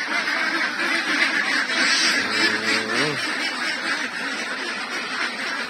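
Flock of farm ducks, around eight to nine months old, calling steadily at close range, with a brief harmonic honk-like quack standing out midway over a constant din of bird noise.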